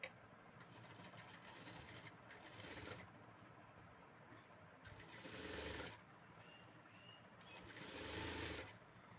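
A sewing machine stitches the lining of a blouse, running close by in three bursts separated by brief pauses, with the last two bursts louder.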